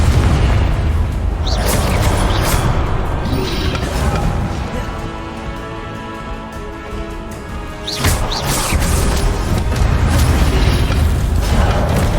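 Spell blasts and magical explosions from Hogwarts Legacy boom and crash in dense, loud bursts, with a big impact near the middle amid continuous game effects and a low rumble.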